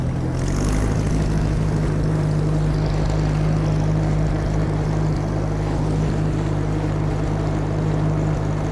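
An Oliver tractor engine, just repaired with a new tensioner, running steadily under load on the road, a loud low droning rumble with a constant pulsing throb and no talk.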